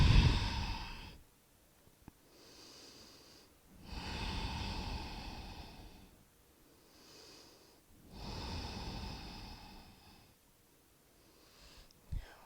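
Slow, audible exhales from a yoga practitioner folding forward in a livestreamed class, three long soft breaths at a steady pace with quiet pauses between, close and alone without talk.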